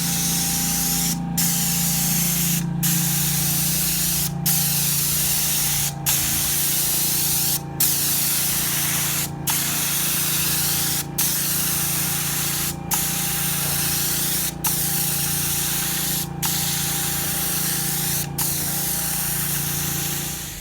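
Asphalt sealer hisses steadily from a sprayer onto a driveway, with short regular breaks every couple of seconds as the spray is swept back and forth over a constant low motor hum.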